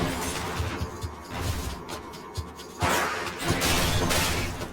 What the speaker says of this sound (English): Zagreus makes snake stone go shatter.